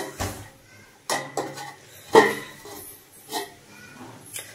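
A pot lid is set over taro curry cooking on the stove, giving a few separate metallic clanks and clinks, with one sharper knock in the middle, all close by and with no talk.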